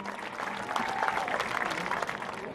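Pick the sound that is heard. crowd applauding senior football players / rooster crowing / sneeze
crowd applauding senior football players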